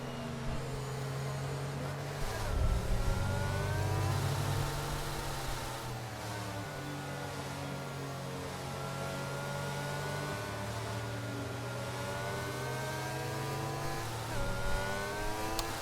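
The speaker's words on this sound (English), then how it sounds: "It's under safety car, the Aston Martin safety car, trying to push around the track." The Aston Martin safety car in a racing video game makes a steady engine drone with rising and falling harmonic tones as it accelerates and eases off around the Austrian track, and a voice talks now and then.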